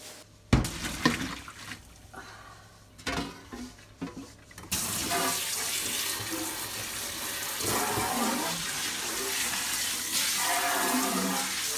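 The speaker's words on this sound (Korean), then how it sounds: "불을 꺼주고 찬물로 씻어 보겠습니다." Tap water runs into a sink to rinse boiled chwinamul (aster greens), a steady close splashing gush that starts after a few light handling knocks and keeps flowing to the end.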